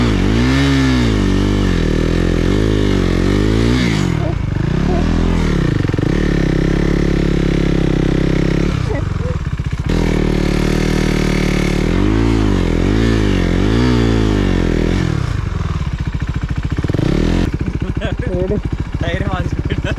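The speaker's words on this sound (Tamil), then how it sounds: "இப்போ வந்து பார்த்தீங்கன்னா நம்ம வண்டியோட பர்னட் பண்ண போகிறோங்க." A KTM Duke 390 motorcycle does a burnout, its engine revving hard in repeated rising and falling surges over a steady loud drone, close to the microphone, with brief scraping clatter between bursts.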